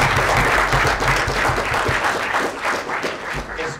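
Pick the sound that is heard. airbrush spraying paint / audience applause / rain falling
audience applause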